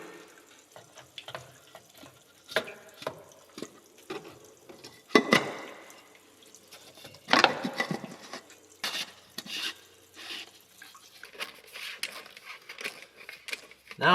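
Fluid trickling and dripping out of a part on farm machinery, heard as scattered drips and short splashing runs with small metallic knocks, close by and fairly quiet, with no talking.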